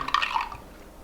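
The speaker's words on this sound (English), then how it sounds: "Add our hot water." Hot water poured into a cup to make MRE iced tea, a short liquid splash and trickle heard close and alone for about a second.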